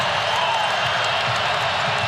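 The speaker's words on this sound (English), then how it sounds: "Now listen to this crowd." A packed arena crowd at an ACC men's college basketball game between NC State and Virginia roars in a loud, steady, dense wash of cheering that holds at full volume throughout.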